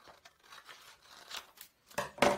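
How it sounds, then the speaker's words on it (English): Scissors snip through paper pattern pieces for a bodice block: a series of short, quiet crisp cuts and rustles, growing louder toward the end. "all you literally want to do is just cut up whatever lines you're adding into"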